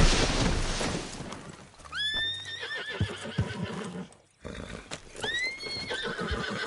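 A horse in a video game whinnies twice with rising, wavering calls, amid hooves clip-clopping and busy outdoor background noise.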